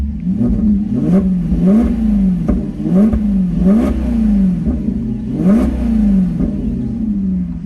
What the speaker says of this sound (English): So I'll give you guys a few revs